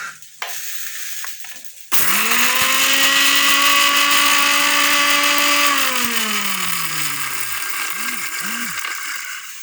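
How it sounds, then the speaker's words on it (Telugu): Kitchen mixer grinder starting up and whirring loudly as it grinds roasted red chilli powder, a steady motor drone that slowly winds down near the end, no talk over it. "కారం మిక్సీ వేద్దాం"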